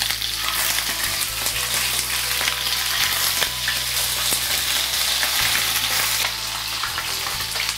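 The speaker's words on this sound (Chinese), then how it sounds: "接下来再准备一个平底锅，把黄鱼煎一下。" Yellow croaker fish fry in hot oil in a flat pan, a loud, steady crackling sizzle that continues alone without voices.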